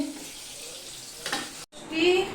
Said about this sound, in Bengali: এই যে বেগুন ভাজা। বেগুন ভাজা করছি।